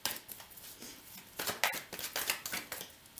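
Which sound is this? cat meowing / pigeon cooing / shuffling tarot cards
shuffling tarot cards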